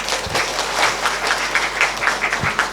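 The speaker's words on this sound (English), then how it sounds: "One more round of applause to father." Audience applause at an academic conference session, a steady dense patter of many hands clapping continuously at moderate volume with no voices over it.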